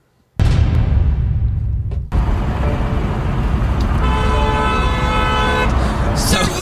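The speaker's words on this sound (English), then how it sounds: "she's honking at him, trying to get his attention" A car horn honks repeatedly at someone on a road to get his attention, a long loud blare with traffic noise and talk mixed underneath.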